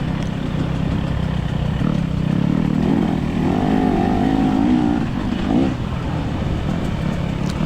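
KTM 300 XC-W two-stroke dirt bike engine droning and revving during a hare scramble race on a hilly course, steady and fairly loud with a brief surge, no talk.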